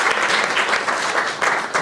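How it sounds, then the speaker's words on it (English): A banquet crowd claps steadily in a dense, close wash of applause lasting under two seconds, uninterrupted by speech. "let's give one last round of applause"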